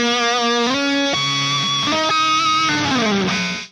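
Electric guitar plays the opening lick of a solo, a bright distorted lead with sustained bent notes and quick runs, loud and alone for nearly four seconds before cutting off.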